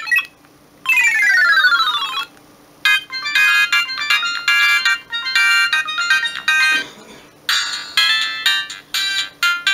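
A Samsung X100 mobile phone plays its built-in ringtone melody as loud, bright electronic notes in quick phrases with short gaps between them.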